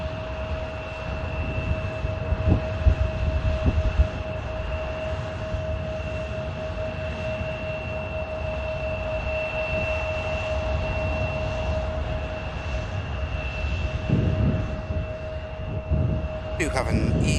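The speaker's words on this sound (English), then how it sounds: "And here is the Eastern that's just arrived from Amsterdam Schiphol" An Eastern Airways aircraft, operating for KLM on arrival from Amsterdam Schiphol at Manchester Airport, gives off a steady engine drone at moderate distance, with a persistent tonal whine over low rumble and a brief rise near the end.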